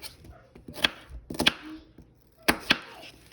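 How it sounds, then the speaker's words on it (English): A knife slices an onion into thin slivers on a cutting board, giving a few sharp, close chopping taps in small irregular clusters, with no talk. "You're just going to cut. You're going to make your thin little slivers."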